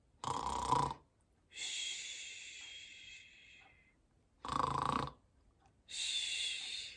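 A voice imitates snoring: two rounds of a rough inhaled snort followed by a long whistling exhale, close and clear with pauses between.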